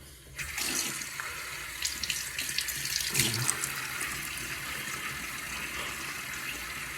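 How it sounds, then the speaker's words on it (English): A bathroom tap runs steadily to wet the face before a shave, starting after a brief pause and then flowing close by in an even, continuous splash with no voices. "let me get my face wet"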